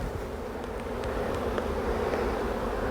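Honeybees shaken from a hive frame fill the air with a dense, close buzzing swarm, a continuous droning hum that swells slightly in loudness, with no voices.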